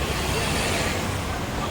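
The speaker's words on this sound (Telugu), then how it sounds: "ట్రాఫిక్ అసలు నెక్స్ట్ లెవెల్ ట్రాఫిక్ ఉంటుంది ఇక్కడ." Dense street traffic in Mumbai, a steady broadband roar of cars, buses and trucks with crowd babble mixed in, loud and continuous.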